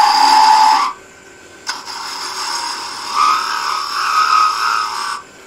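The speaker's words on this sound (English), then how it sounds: "Just a little peeling cut there with the skew." A skew chisel takes a peeling cut on spindle wood spinning on a lathe, turning a sea urchin ornament: a loud, steady scraping whir that breaks off briefly, then resumes with a brief knock, without speech.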